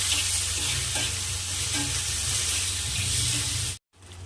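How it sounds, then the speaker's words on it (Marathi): Tomato and onion sauté in a pan for a spicy thecha chutney, giving a steady close sizzle with stirring scrapes that cuts off abruptly near the end. "टोमॅटो पण चांगलं सॉफ्ट होईपर्यंत याला परतून घ्यायचं आहे"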